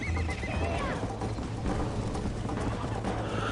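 A horse in the Red Dead Redemption video game whinnies loudly and close, with clip-clop hoofbeats running under the call for the whole stretch.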